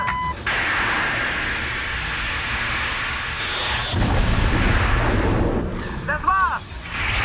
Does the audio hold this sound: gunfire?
yes